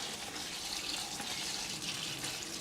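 Water runs steadily from a tap into a container being filled for making plant-based organic fertilizer outdoors, a continuous close splashing rush with no talk.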